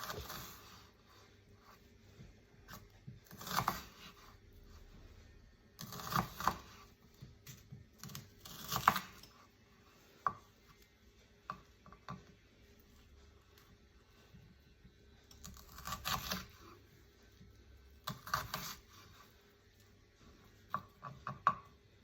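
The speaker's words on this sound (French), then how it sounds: "Je vais d'abord commencer à tailler mon oignon, hop, dans le sens de la longueur et ensuite de la largeur pour en faire des tout petits cubes" A knife dicing an onion into tiny cubes on a board, irregular bursts of rapid chopping taps separated by quiet pauses, close and fairly faint.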